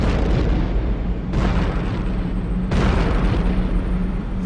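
A loud, continuous roaring explosion rumble, deep and dense, surging anew twice as fresh blasts hit, depicting comet Shoemaker-Levy 9 striking Jupiter.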